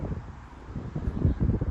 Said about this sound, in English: it's fresh and windy